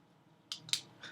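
An e.l.f. cosmetic product dispenser being clicked, two sharp close clicks in quick succession and a softer third, faint and alone in quiet surroundings.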